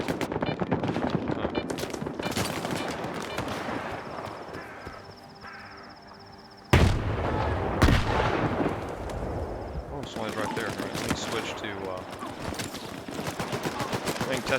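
Rifle fire rings out in Stalker 2 at a chemical plant, a loud sharp shot standing out amid ongoing bursts of gunfire and booming reports, with a player talking throughout.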